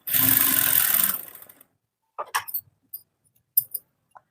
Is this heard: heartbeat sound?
no